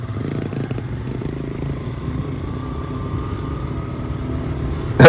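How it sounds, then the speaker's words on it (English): A Wheel Horse garden tractor fitted with a 3 horsepower diesel engine runs steadily with a low, even chugging drone and some rattle, close and constant throughout, ending in a sudden loud burst. "his wheel horse 3 horsepower diesel powered tractor"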